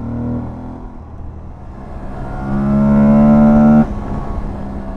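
An Aprilia Tuareg 660 motorcycle engine pulls on the road, its tone rising steadily and swelling louder to a strong, close rev before cutting back abruptly to a lower drone.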